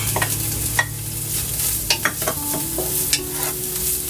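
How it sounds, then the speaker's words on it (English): Ginger and green onion fry in a little oil in a wok, a soft sizzle beneath scattered scraping clicks of a utensil stirring against the metal, with a faint low hum. "putting in the ginger and the green onion"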